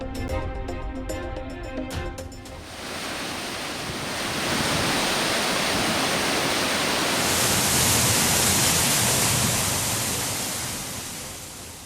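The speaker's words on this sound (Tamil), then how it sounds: "தென்காசி மாவட்டத்தில் தொடர் மழையால் குற்றால அருவிகளில் வெள்ளப்பெருக்கு." The flooded Courtallam waterfalls roar after continuous rain, a dense, loud, steady rush of water that swells slightly midway and holds without voices.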